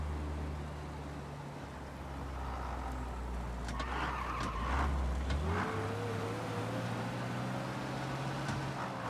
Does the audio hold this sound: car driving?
yes